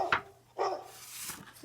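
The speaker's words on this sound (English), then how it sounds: "Dog. And the dog. Yeah. The doggy." A dog barks a few times in a preschool picture activity, short separate yelps with a gap between, fairly near over a faint background hum.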